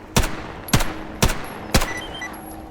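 Four evenly spaced, sharp, loud gunshots in the video game Stalker Gamma, each with a short ringing tail, fired alone with no talking.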